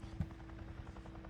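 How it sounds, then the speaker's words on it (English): Helicopter rotor in the video game Days Gone, a steady low rhythmic thumping heard at a distance, moderately faint, with one brief heavier thud early on. "I can hear a chopper somewhere."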